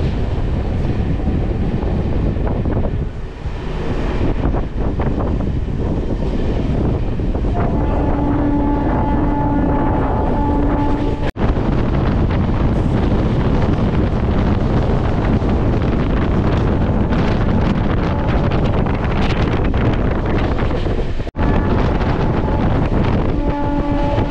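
Santragachi–Jhargram MEMU electric local train running at speed after leaving Bagnan station, a loud, continuous roar and rumble with steady wind buffeting, sustained throughout with no talk.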